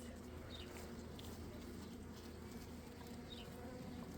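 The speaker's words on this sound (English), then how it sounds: "Wow, look at all those bees." Honeybees buzz steadily in and around an opened hive, a dense, faint drone that continues without a break throughout.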